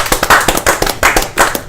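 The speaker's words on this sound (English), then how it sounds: "Let's give a round of applause." A round of applause on a sports talk show, loud close clapping in a quick, uneven rhythm, like a small group or a few hands near the microphone, lasting under two seconds.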